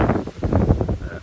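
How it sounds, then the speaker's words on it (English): Gusty wind buffets a microphone outdoors beside a grey Mazda CX-5, a steady low rumbling roar with no talk over it. "Apologies for the wind"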